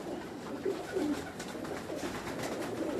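Pigeons coo faintly in low, soft warbling calls over a murmuring background, the short phrases repeating gently throughout.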